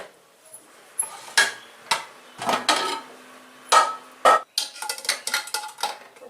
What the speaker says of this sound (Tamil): இப்போ குக்கரை திறந்து